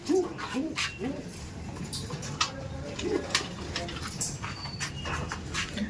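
Soft, low coos of a pair of Chennai-breed pigeons repeat several times at close range over a steady background hum, with faint voices now and then.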